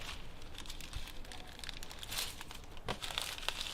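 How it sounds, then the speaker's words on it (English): Packing tape being pulled and pressed onto a sealed shipping package, quiet close crinkling and short tearing rasps scattered irregularly through a soft background. "Then take off the seal, tape it."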